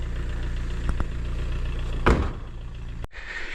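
Car engine running steadily while driving to a construction site early on a cold morning, a continuous low rumble with a brief louder thump near the middle and a short cut before the hum resumes.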